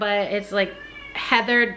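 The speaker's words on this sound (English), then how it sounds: "sorry about the cat" A cat meows repeatedly nearby, several short, tonal cries in quick succession, mixed with someone talking.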